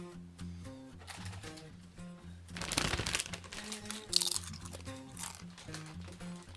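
Doritos chips crunch loudly and repeatedly through close chewing, with crinkling bag noises and a burst of heavier crunching midway, over a low rhythmic background.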